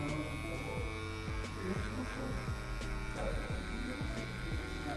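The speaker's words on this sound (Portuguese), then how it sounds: "agora com a máquina na zero, nós vamos estar criando a nossa linha base" An electric hair clipper with no guard buzzes steadily while cutting the base line of a mid fade haircut, a close, continuous hum over faint background music.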